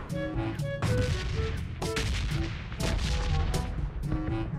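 Gunshots in a battle royale video game, with repeated sharp loud shots and short bursts in quick succession, mixed with chimes and other game sounds.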